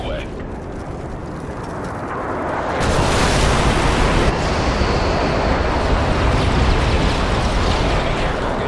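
Airstrike bombs from a Nighthawk bomb run rumble and explode in Modern Warfare 3 team deathmatch, a broad roaring blast that swells midway and keeps thundering loudly.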